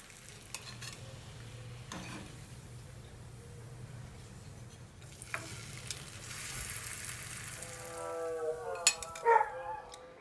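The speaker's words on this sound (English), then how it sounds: "once we finish frying these veggie strips, then we're going to fry the ham slice" Vegetable strips fry in oil in a pan for a breakfast club sandwich, with a steady, soft sizzle throughout, a few utensil taps and stirring sounds near the end, and no talking.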